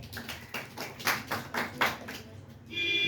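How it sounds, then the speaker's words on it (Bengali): A small group applauds a student during a quiz class, several short rounds of light, close clapping that stop abruptly near the end. "ওর জন্য একটা হাততালি।"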